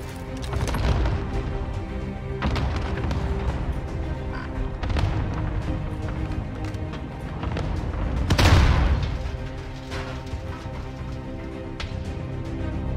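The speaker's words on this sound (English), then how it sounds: "Allied cluster strike inbound." Cluster strike explosions rumble through a Call of Duty Warzone match, with dense booms and a heavier blast swelling midway over continuous battle noise and scattered gunfire.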